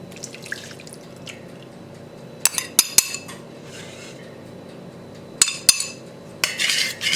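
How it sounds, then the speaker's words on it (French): Agave syrup and almond milk stirred in a large bowl, with scattered clinks and taps of a utensil against the bowl, a few sharper knocks standing out over soft liquid sounds and quiet room tone. "Voilà, je mélange ça."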